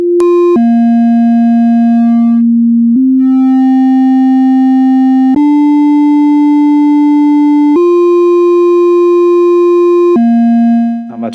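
A sine wave run through a Eurorack distortion module with the input multiplied by 5 gives a loud, steady buzzing tone that steps through several pitches, each held for a couple of seconds.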